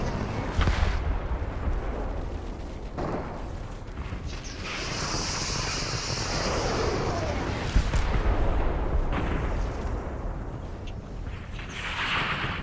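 Rocket launcher blasts and explosions in the Fortnite battle royale game, a rumbling roar of booms and bursts lasting throughout with a sharp hit near the middle, with talk over the action.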